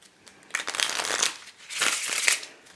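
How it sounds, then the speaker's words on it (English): Two bursts of a deck of cards being riffle-shuffled up close, crisp rapid flutters separated by a short pause. "They shuffle okay, and that's about all they do okay."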